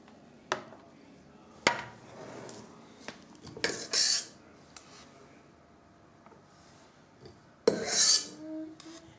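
A spatula smooths cream frosting around the sides of a chocolate cake, giving a few short scraping and rubbing strokes with quiet pauses and light taps between them, close and fairly soft.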